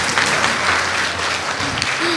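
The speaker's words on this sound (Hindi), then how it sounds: "ताली बजा दो भाई, कंजूसी मत" A student audience applauds steadily, a dense, even wash of clapping from many hands that stays loud throughout.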